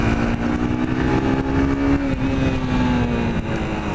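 Small Yamaha Factor motorcycle engine while riding, a steady droning hum with a slight rise and fall in pitch, loud and close, with no talk.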